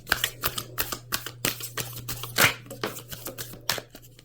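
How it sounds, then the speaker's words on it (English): Rapid, crisp riffling and snapping of tarot cards being shuffled, in quick repeated bursts close by, with a steady low hum underneath. "we'll do one more shuffle here"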